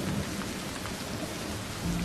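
Heavy rain pours steadily in a thunderstorm, a dense continuous wash with low thunder rumbling underneath, loud and close with no voices.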